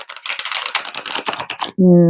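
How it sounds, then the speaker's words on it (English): A black deck of tarot cards is riffle-shuffled up close, giving a rapid run of crisp flutters and clicks that ends abruptly in a short tonal beep. "let me just give this this black set of cards one more shuffle because it's all twisted"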